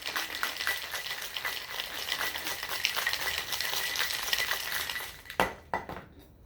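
A cocktail shaker holding a rosemary bourbon sour rattles hard and steadily for about five seconds, then stops with a few loud knocks and clanks.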